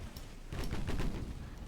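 Naval guns fire armor-piercing shells in a warship video game, a dense rapid volley of booming shots and impacts rolling together loudly.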